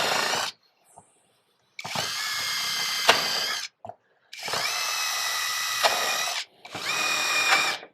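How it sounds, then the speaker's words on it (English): A power drill bores through an acrylic sheet for a mini trike bubble top, in three sustained high whining bursts separated by short silences, loud and close, with no talk. "So now I'm drilling through the acrylic."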